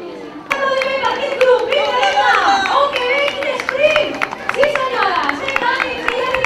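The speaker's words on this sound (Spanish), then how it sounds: "Un fort aplaudiment" Scattered applause from a crowd for a finisher of a women's five-mile race in Valldoreix, with rhythmic clapping and cheering under a loud announcer's voice over a loudspeaker.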